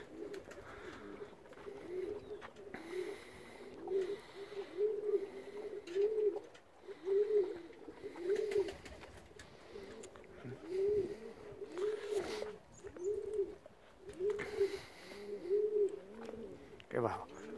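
A pigeon coos close by in a steady series of low, throaty warbling calls, repeating roughly every second across the whole stretch, with faint background rustle and occasional clatter.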